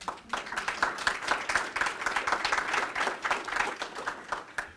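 Audience at a FY2014 proposed budget presentation giving a round of applause, a full, busy patter of many clapping hands that holds steady for nearly five seconds.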